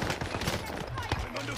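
Warzone video game gunfire, a steady crackle of rapid shots running under game sound effects and talk, moderately loud throughout.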